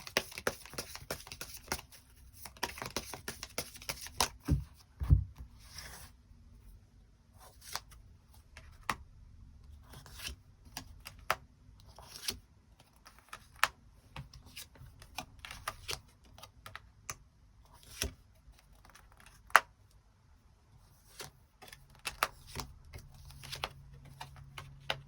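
Tarot cards are shuffled and drawn for a reading, heard alone as a long run of dry, irregular flicks, snaps and soft riffling taps, close and fairly quiet, with no talk.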